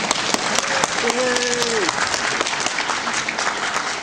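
An audience at a debate on world civilisation breaks into sustained applause, a dense wash of clapping from a large crowd with a brief tonal whistle or hum rising through it.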